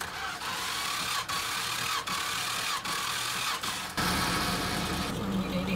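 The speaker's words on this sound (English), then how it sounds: "this is cylinder number four. Throttle's wide open, cranking." A 1970s RV engine cranking on the starter with the throttle wide open during a compression test, a loud continuous rhythmic churn with regular dips at each revolution, ending in a steadier drone.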